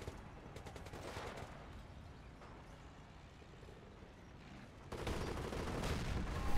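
A Panther tank fires in a war video game, dense rumbling bursts of gunfire and engine noise that swell louder toward the end, with no voices.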